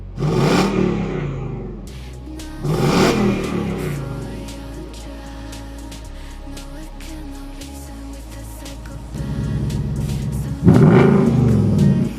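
A Ford Mustang Shelby GT500 revving its exhaust, with three sharp, loud blips separated by a rumbling idle that lingers steadily in between, heard close with no talking.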